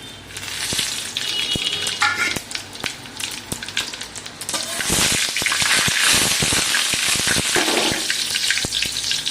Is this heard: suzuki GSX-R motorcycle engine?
no